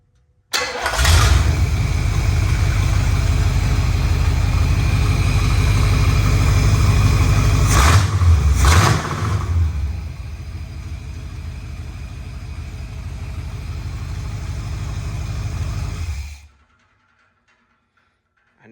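A 1964 Pontiac Catalina with a Quadrajet carburetor cranks briefly and catches, then settles into a loud, steady idle with a couple of quick revs midway before the engine shuts off near the end, followed by silence.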